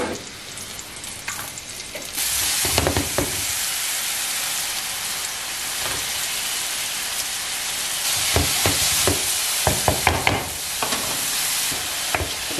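Vegetables hit a hot frying pan that has been cooking pork ribs and sizzle loudly. The steady hiss swells and crackles in bursts as they are stirred, with no talking.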